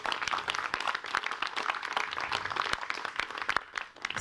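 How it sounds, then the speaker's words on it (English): Audience applause at a charity walk in Barnet, London: a thick, continuous patter of many hands clapping with sharper individual claps popping out, sustained and fairly even throughout. "A massive round of applause to all of you."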